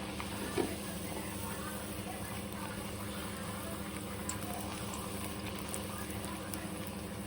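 Sweet jaggery dough pieces frying in hot oil in a home kitchen, a steady close bubbling sizzle throughout with no talk.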